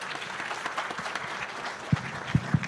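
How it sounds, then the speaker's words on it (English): A conference audience applauds its panelists with sustained clapping and a few louder claps standing out near the end. "Please give our panelists a round of applause."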